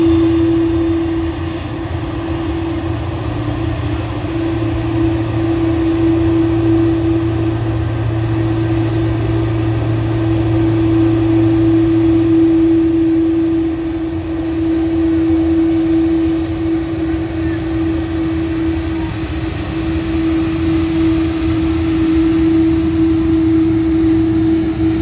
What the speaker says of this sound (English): Then an Aer Lingus A320-200 taxis past to head down to the runway.